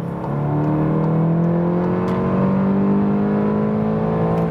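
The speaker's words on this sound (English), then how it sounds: "So what about some acceleration, guys? 80, third gear, let's go." A Volkswagen Golf GTI Clubsport with 265 hp accelerates hard from 80 in third gear on the Autobahn, its engine note rising steadily in pitch as a loud, continuous in-cabin drone with no gear change.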